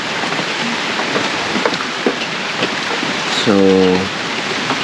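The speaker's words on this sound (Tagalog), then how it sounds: "At umuulan pa rin." Steady rain falls at dawn on Kalanggaman Island during an overnight camp, a dense, even patter throughout, with a brief tonal hum near the end and a voice speaking briefly.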